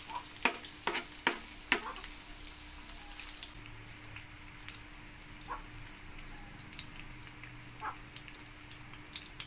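Tomato frying in a pan with bitter gourd and golden-browned onions, giving a steady soft sizzle. Sharp clinks of a utensil stirring come at the start, and scattered pops follow. No one speaks.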